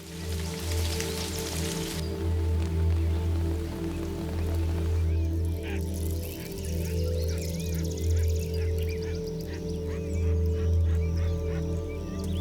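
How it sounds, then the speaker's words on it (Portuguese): Steady rain falls outdoors at the start of summer in meerkat habitat, a constant soft patter blended with wildlife calls and a low rumbling layer beneath. "Mas quando o verão chega, as primeiras chuvas também aparecem."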